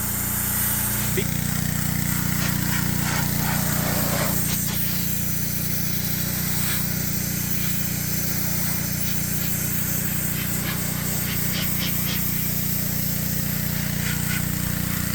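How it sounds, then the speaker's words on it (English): A pressure washer blasts the wood finish off a remote Alaska cabin, a steady loud hiss with an engine drone underneath running for the whole stretch, starting after a brief quieter moment. "Zach is pressure washing, there we go, the bulk of the finish off"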